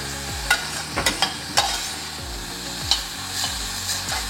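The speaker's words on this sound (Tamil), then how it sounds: "ஆனியன் கொஞ்சம் வதங்கி வரட்டும்." Onions sautéing in a pan for a mixed sprouts gravy, with a steady soft sizzle and repeated sharp scrapes and clinks of a spoon stirring against the pan, close and without speech.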